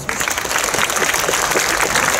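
A hall audience at the opening of a poetry night in Chojnice, Poland, claps steadily in a full, even burst of applause that runs throughout.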